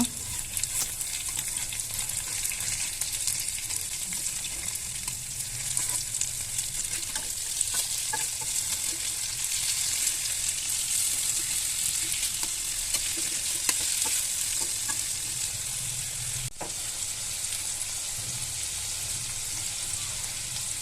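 Fish fry in a pan, giving a strong, continuous sizzle with crackling bursts that holds at a steady level for the whole stretch, and no one speaks.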